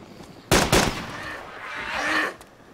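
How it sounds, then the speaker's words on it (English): Gunshots in a video game firefight, heard as two sharp close cracks followed by a sustained rumbling impact or echo, with faint talk in the background. "Someone's shooting this wall"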